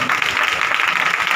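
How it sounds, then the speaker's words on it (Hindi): A crowd at a Christian worship gathering claps loudly in a continuous, even roar of hands, filling the whole short stretch without pause or speech on top. "खुदा के जलाल के लिए जोरदार तालियां"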